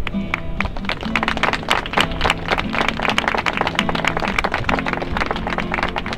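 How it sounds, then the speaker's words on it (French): A rally crowd at a kiss-in protest against homophobia claps steadily and densely for about six seconds, with a faint tonal backing running underneath. "Vous pouvez vous applaudir"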